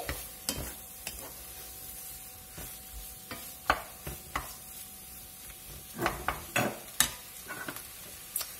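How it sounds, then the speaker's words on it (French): Mushrooms cooking down in a pan are stirred, a steady low sizzle running underneath while a utensil scrapes and clicks against the pan in irregular bursts, close and alone. "Vous voyez les champignons, ça réduit déjà en fait. On vient mélanger."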